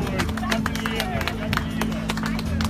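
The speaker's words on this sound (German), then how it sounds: "Herzlichen Glückwunsch und Applaus an die PFH." A crowd claps and cheers at the award ceremony of a duck race in Göttingen. Steady applause of moderate loudness runs through the whole clip, mixed with crowd babble.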